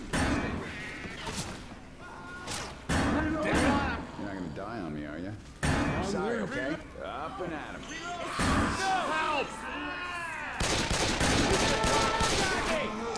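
Left 4 Dead 2 gunfire: rapid clattering shots and slam-like bangs in bursts, fairly quiet in the mix and running under constant busy voices and chatter.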